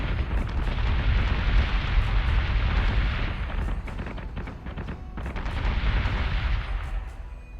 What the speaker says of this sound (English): We are going to take missiles and torpedoes to the face.